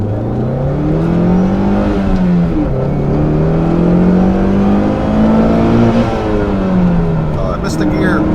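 A 2.4L turbo car accelerates hard through its gears, the engine note climbing, dropping at each shift and climbing again, loud and continuous from inside the car, with a brief fumbled shift early on.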